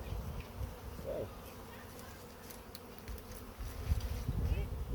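Wild bees buzz close by while being moved into a beehive, a soft continuous hum with brief louder passes and faint background voices.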